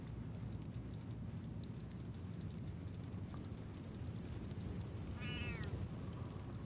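Cat familiar in the Baldur's Gate 3 video game gives one short, clear meow near the end, rising over a steady bed of game ambience and soft clip-clop-like footsteps.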